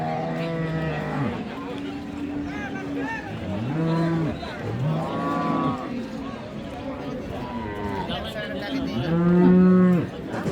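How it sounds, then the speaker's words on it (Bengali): Friesian dairy cows at a livestock market in Ambari, Dinajpur, mooing repeatedly in long, loud bellowing calls, several overlapping close by against a steady crowd murmur. "দর্শক কিছু মিডিয়াম সাইজের গাভি আছে, এগুলো এক নজরে দেখে আপনাদের।"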